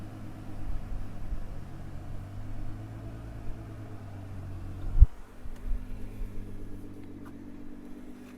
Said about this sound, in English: Get this defrost going.